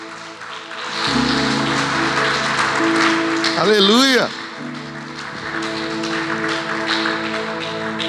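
A church congregation breaks into sustained applause for Jesus during a service, a dense wash of clapping that starts about a second in and continues to the end, with a voice shouting over it.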